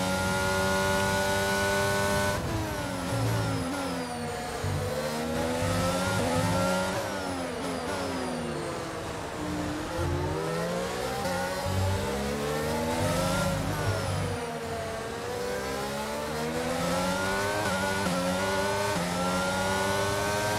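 A Formula 1 race car engine in the F1 22 video game at the Mexican Grand Prix drones continuously and loudly, its pitch repeatedly rising through upshifts and dipping on downshifts as the car accelerates and brakes, with no talking.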